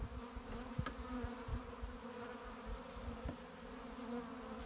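Bees swarm and hum around a hive box after being shaken in, a steady faint buzzing with a few brief louder passes close by.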